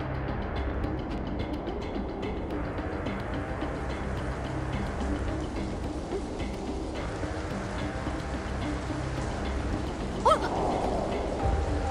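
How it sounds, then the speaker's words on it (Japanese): Steady rain falling in the video game Soul Hackers 2, an even, continuous hiss that holds at a constant level throughout, with a brief brighter accent near the end. "雨が降ってきたから。"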